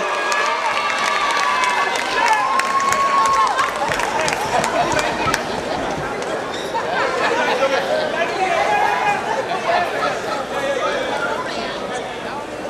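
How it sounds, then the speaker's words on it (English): A crowd at the 2015 Toyota Classic football final applauds the MVP, Jamal Williams, with continuous clapping and cheering under a stadium announcer's voice and crowd chatter. "a round of applause for the MVP"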